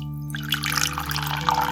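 Water drawn from a well and poured into a bottle, a short watery splash and trickle over a steady musical backdrop.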